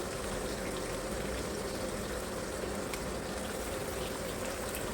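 Onions fry steadily in a pan for homemade chilli chicken, giving a continuous, even sizzle with a bubbling, watery texture that holds at a constant moderate level throughout, with no talking.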